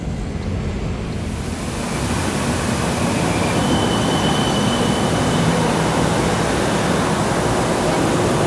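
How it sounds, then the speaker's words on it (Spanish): Steady broadband rumble and rolling roar of a tram in motion in Kaohsiung, Taiwan, continuous and fairly loud throughout, with a faint high whine, no talking. "voy a intentar coger el tranvía"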